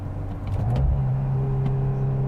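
A 2022 Volkswagen Golf R hot hatch with a six-speed manual holds a steady mid-pitched engine and exhaust drone while driving, with a slight swell in revs, moderately loud and without talk.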